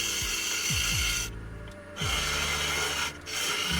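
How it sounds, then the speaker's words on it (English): A scraper cutting walnut wood on a lathe, with a steady loud rasping scrape broken by two short pauses as the tool lifts off the spinning piece. "I use a scraper to carefully cut the opening"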